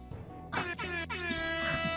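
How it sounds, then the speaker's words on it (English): Loud, blaring air horn bursts in quick succession, a sudden sound effect ringing with bright harmonic tones that repeat several times in two seconds. "I would love to start the video with just an air horn sound coming out of nowhere."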